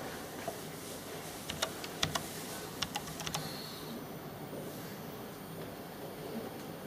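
A file name being typed on a computer keyboard beside a pneumatic marking machine, with a few sparse, faint key clicks over a steady low background hum.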